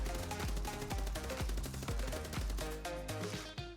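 Rapid automatic fire from an ACR rifle on a Call of Duty MW3 firing range, loud rhythmic shots in continuous bursts.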